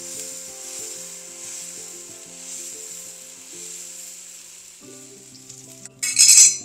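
Oats dosa batter sizzles steadily on a hot pan, a continuous close frying hiss with faint scraping. A sharp metallic clink of a utensil comes near the end.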